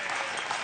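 A brief burst of steady crowd applause in a curling arena after a winning shot in a skins game, fairly even and moderately loud.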